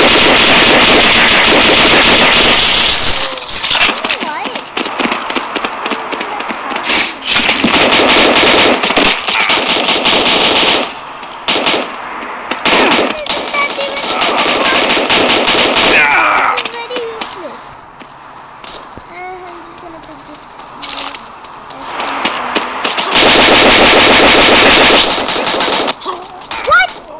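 Rapid automatic gunfire from the mobile shooter game Modern Ops rattles loudly in long bursts, broken by short pauses, while someone talks over the action.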